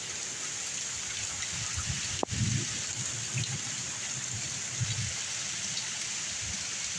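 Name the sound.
rain and thunder during a thunderstorm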